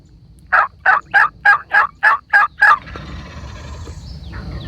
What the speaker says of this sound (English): Look at these gobblers.